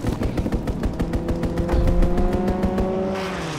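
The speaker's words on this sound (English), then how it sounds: "Fighter pilot inbound, strafing the target." A fighter jet's strafing run in a video game: a rapid string of evenly spaced gun bursts over a deep, rising engine roar, loud and close, before the firing stops.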